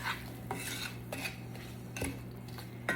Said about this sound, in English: I'm going to stir it so that all of the apples and the cranberries are covered.